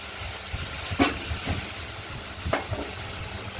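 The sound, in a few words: ground spice paste with turmeric frying in a wok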